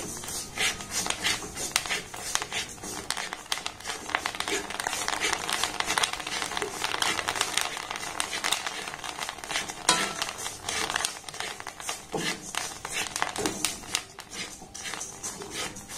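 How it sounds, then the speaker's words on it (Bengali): Rice stirred in hot salt in a pan puffs into muri, giving a dense, continuous rustling and gritty scraping with crackly sizzle throughout, fairly close. "অল্প করে চাল দিয়ে দিয়েছি। এইভাবে নাড়াচাড়া করবেন, মুড়িগুলো কিন্তু অটোমেটিক খুব সুন্দরভাবে ফুলে যাবে।"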